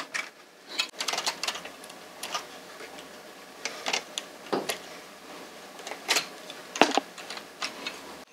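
An LK 150 knitting machine knitting rows: quiet, irregular clicks and ticks as the carriage slides back and forth, heard faint and close with no talking.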